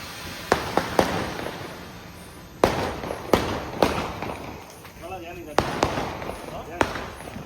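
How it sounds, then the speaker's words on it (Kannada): Diwali firecrackers and fireworks go off in Gubbi, with a string of sharp, loud bangs and crackles spread irregularly over a steady background hiss of distant bursts. "ನಾನು ಇಲ್ಲಿ ಪಟಾಕಿ ನೋಡ್ತೀನಿ"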